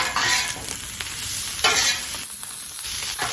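Shrimp fried rice is stirred on a hot Blackstone griddle, with a spatula scraping and tossing in short strokes over a constant close sizzle.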